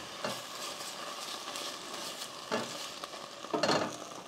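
Onions and Thai green curry paste fry in a pan with a soft, constant sizzle, broken by three brief scraping bursts of stirring.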